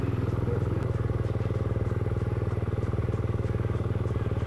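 A motorcycle on a rocky trail near Mangatarem runs with a steady, pulsing engine drone after tipping over with water in its exhaust, close and continuous.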